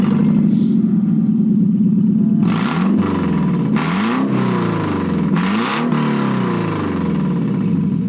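A Toyota MR2 with its exhaust fallen off the header revs hard several times in quick bursts, loud, raw and close, each rise and fall of the engine blaring over a constant idle drone.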